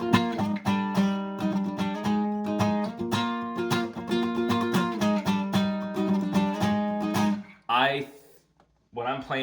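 Strummed acoustic guitar playing a song with heavy muting, choppy percussive chords for several seconds, then stopping as a voice begins.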